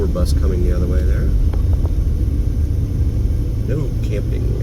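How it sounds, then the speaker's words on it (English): A tour bus passes going the other way on a desert road near Valley of Fire, northeast of Las Vegas, with a low engine rumble under road noise from inside a moving vehicle while someone talks. "it looks like a tour bus coming the other way there"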